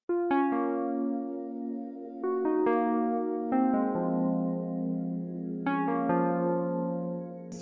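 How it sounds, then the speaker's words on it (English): An Omnisphere Cosmic Planet Keyscape synth preset plays arpeggiated chords descending through each chord, with bright, bell-like tones that sustain and overlap, loud and clear, with no voices. "I picked this Cosmic Planet Keyscape preset, and I went ahead and pretty much just followed the chords"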